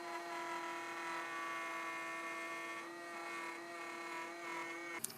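A router fitted with a 12mm bit runs in a wooden channel with a steady, high, whining motor tone that holds evenly throughout, then ends in a sharp click.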